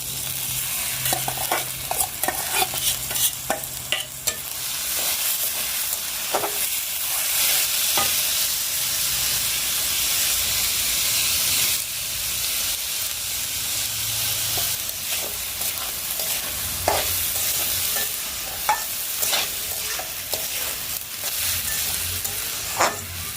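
Rice is stir-fried in oil in a pot, with a close, continuous frying sizzle and repeated sharp scrapes and knocks of a spoon stirring at an uneven rhythm.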